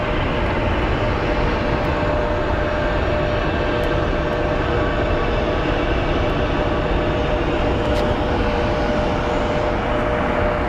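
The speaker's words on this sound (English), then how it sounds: "So we're at least going to get one big plane taking off." Boeing 787 Dreamliner jet taking off at Phoenix Sky Harbor International Airport: a broad, loud, continuous roar of engine thrust that holds steady for about eleven seconds, with no voices.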